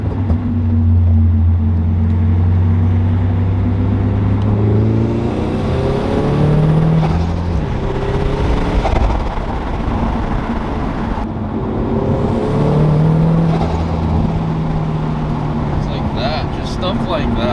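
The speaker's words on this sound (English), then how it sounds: "the turbo sound is just so good" A turbocharged 2022 BRZ / GR86 accelerating, its engine note climbing repeatedly through gears with a loud, continuous rumble under a person talking throughout.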